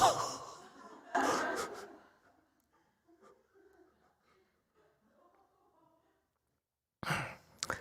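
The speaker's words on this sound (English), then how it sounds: "she's yawning" A woman yawning during a lecture on Buddhist scripture: two long, breathy, drawn-out exhalations close by, then near silence with faint scattered room sounds, and another breathy burst at the end.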